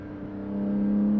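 A Porsche 718 GT4 on a race track holds a steady, loud engine drone that swells gradually as it pulls, a continuous close mechanical hum with no talk over it.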